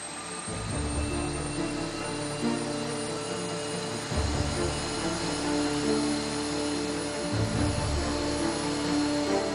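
A British Airways airliner's engine runs steadily during a ground test, a loud, continuous roar with a rumbling low end that swells slightly around the middle and holds throughout, with no talking.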